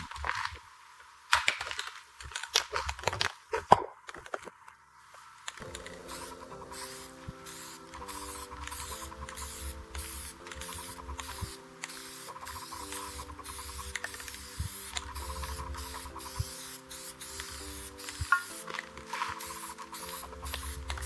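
Rust converter is sprayed from an aerosol can onto rusty winter wheel rims in repeated short hissing bursts, close and fairly loud, with a faint steady hum beneath and no talking.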